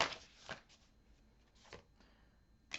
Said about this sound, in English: I was just shuffling and then I looked down and then there's this one that's flipped over in the deck